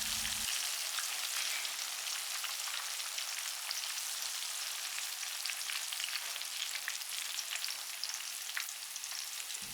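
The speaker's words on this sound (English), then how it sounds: "Add your garlic, shallots, dried anchovies and sliced turkey meatloaf." Garlic, shallots, dried anchovies and sliced turkey meatloaf stir frying in a wok, a loud, steady hiss and crackle of hot oil that runs unbroken and close throughout.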